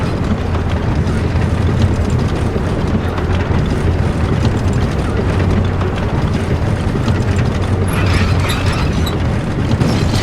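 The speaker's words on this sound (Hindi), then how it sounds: "लीवर को घुमाते हैं और अपना रास्ता बनाते हैं" A lever being turned in Resident Evil 6 gives a loud, steady mechanical grinding with ratcheting clicks and a windy rumble, running continuously for about ten seconds with no talk.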